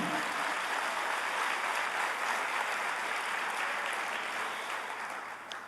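A church congregation applauds during a Sunday service, a dense, steady wash of clapping that fades slightly at the end.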